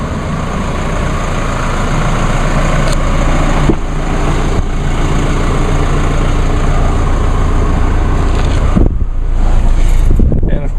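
A diesel engine runs with a steady, loud idle rumble throughout, mixed with blustery wind noise on the microphone.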